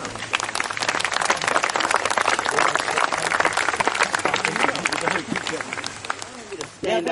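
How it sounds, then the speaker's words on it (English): An audience at a cricket tournament dinner gives a long, loud round of dense applause, with voices and cheers mixed in throughout. "give yourselves a round of applause."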